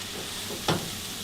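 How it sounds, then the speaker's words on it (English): Ground beef browning in a pan for sloppy joes, a steady low sizzle throughout with one brief louder burst of scraping or spattering partway through, no voices. "start browning our ground beef"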